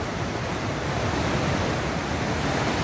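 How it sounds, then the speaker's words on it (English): Fast-flowing river water rushes loudly and steadily at a trail crossing, a continuous broad roar with no pauses and no voices. "That's a lot of water."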